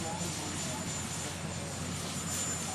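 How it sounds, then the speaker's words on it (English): A helicopter taking off overhead at a presidential inauguration makes a steady, dense rotor-and-engine roar that fills the whole moment without letup, with voices faintly beneath. "we will see that the helicopter overhead as it takes off"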